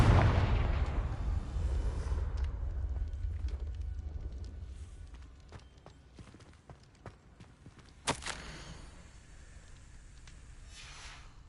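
A Confringo spell in Hogwarts Legacy bursts in a loud, booming explosion that rumbles and fades over several seconds, then gives way to scattered clatter and a sharp crack.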